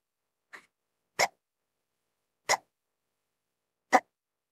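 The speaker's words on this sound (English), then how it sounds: "These hiccups are pretty fast." Hiccups recorded at a computer, four sharp, short bursts spaced roughly a second apart, the first fainter and the rest close and loud, with silence between them.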